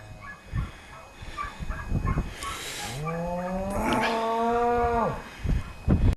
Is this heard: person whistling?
no